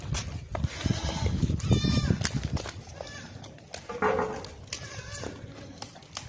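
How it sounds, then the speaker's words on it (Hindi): Large, heavy male goats, including a Beetal buck, in a lot of six offered for sale for the 2025 Qurbani in Pakistan, bleat in a few wavering calls over a busy, noisy background with muffled voices. "6 के 6 ताकतवर और मोटे बड़े बकरे हैं वजनी।"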